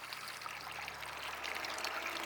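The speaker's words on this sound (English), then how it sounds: "we're just going to pour water right down that until it's all the way full, coming right out the top" Water poured steadily into a pump's priming port to fill the system, a continuous close trickling and splashing stream with no talk over it.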